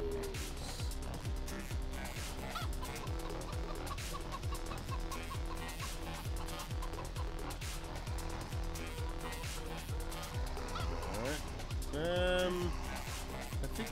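Chickens cluck in Farming Simulator 17, played with a seasons mod, over a steady droning vehicle engine. A scattering of clucks runs throughout, and a louder rising call stands out near the end.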